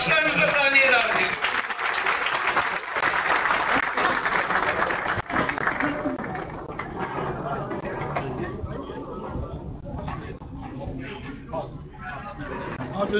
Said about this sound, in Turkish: yüksek alkışlarınızla Üsküdar'ın gururu Sayın Hilmi Türkmen Başkanımızı kuvvetli alkışlarınızla sahneye davet edin